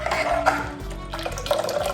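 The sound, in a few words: water poured into cooker with raw mango puree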